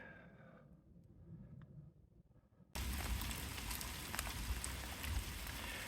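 Hail falls on a Colorado Trail hiking route, a dense crackling patter that bursts in suddenly and loudly after a quieter stretch, continuing steadily.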